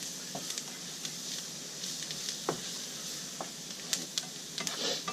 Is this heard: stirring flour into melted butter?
yes